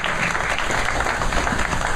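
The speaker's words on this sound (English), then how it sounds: "So a round of applause for my friends from Metro" A press conference crowd claps steadily throughout, a dense, even wash of applause with no voices standing out.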